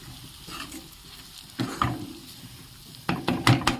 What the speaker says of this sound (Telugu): సిమ్లో పెట్టుకొని కలుపుకోవాలండి ఇప్పుడు, మసాలా అడుగు పట్టకుండా